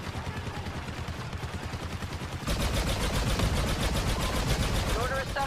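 Rapid, steady automatic gunfire from a blaster in Star Wars Battlefront 2 multiplayer: a dense rattle that gets louder and closer halfway through and keeps hammering to the end.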